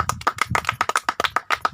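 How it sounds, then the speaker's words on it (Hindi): A church congregation claps to welcome a bishop at a prayer gathering: dense, continuous, close-up applause from many hands, loud and steady, with no voices over it. "हम ताली बजाकर उनका स्वागत करेंगे।"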